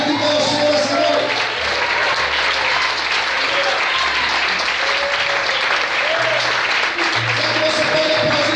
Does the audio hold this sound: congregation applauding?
yes